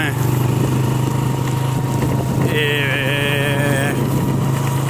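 Motorcycle riding in the rain, its engine droning steadily and loudly throughout with a shifting higher whine partway through, while someone talks over it.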